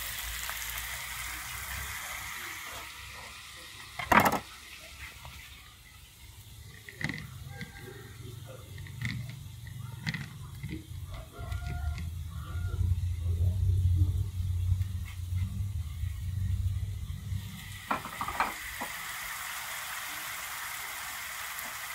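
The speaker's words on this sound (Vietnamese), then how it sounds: "Đó là hành với tỏi, mình cho vô chảo mình chiên chung với đậu hũ cho nó thơm." Tofu sizzles steadily in a pan with onion and garlic for a vegetarian stir-fry, with a low rumble underneath and a couple of sharp utensil clinks near the start and end.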